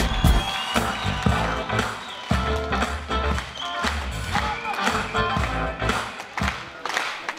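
Concert contest audience at a Universal event clapping and cheering, a dense continuous burst of applause with crowd noise that rises and falls over several seconds, with some voices mixed in.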